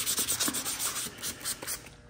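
Hand sanding on a truck's painted body, a rapid rhythmic scrubbing rasp repeating in quick strokes, close and steady.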